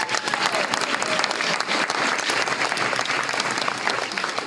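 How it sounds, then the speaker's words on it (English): Applause from the audience at a school board meeting, a steady, fairly loud patter of many hands clapping that carries on for several seconds. "Big round of applause for Miss Peggy."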